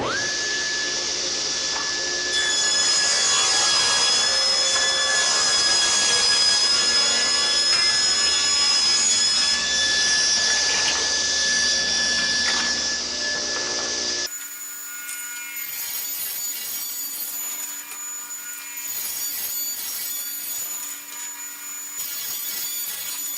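A table saw rips wood strips for mouldings, its blade whining at a high steady pitch under a loud motor drone, then the pitch shifts as the cut changes and the saw runs on more quietly.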